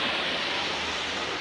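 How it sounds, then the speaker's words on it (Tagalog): Heavy rain pours down steadily in a broad, even hiss that fills the whole moment without breaks, fairly soft overall, with no voices heard. "Yan, ang lakas ng ulan."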